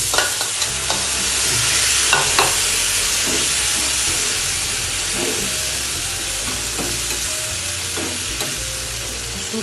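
Dal being stirred into vegetables and chopped capsicum in a hot pan, giving a loud continuous sizzle with repeated scraping strokes of a spoon throughout, close up and without talking.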